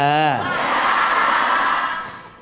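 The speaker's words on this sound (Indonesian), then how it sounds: "Tepuk tangan buat kita semua" Applause and cheering from an audience at an Islamic religious talk in Indonesia, starting with a short vocal shout, then sustained dense clapping with whoops that holds steady and begins to fade near the end.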